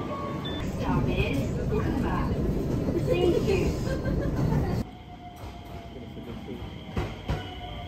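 Rumbling Japanese passenger train interior with steady rail noise and low chatter, then a quieter stretch of smooth running with faint whining tones and a couple of knocks.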